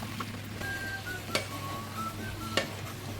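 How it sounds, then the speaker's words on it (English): A vegetable stir fry of celery, onions, garlic, chopped plum tomato and Italian seasoning is tossed in a pan, giving a soft, steady sizzle broken by two sharp clinks of utensil against pan. "So this is our vegetable stir fry."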